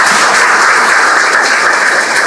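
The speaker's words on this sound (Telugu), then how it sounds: "వారికి ఒక్కసారి గట్టిగా చప్పట్లు కొట్టాలి." Audience applause at a Lions Club International district 316D gathering honoring a district governor, a dense, steady clapping that fills the whole stretch at close range with no voices over it.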